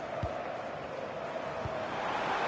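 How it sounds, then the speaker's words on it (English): Crowd noise from a stadium in the football video game FC26, a dense, steady roar of spectators with a couple of low thuds, continuous and fairly loud throughout. "The crowd certainly think so. Just listen to them."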